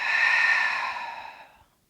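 A long, breathy exhale during a Pilates exercise, steady at first and then fading out over about two seconds, with no talking.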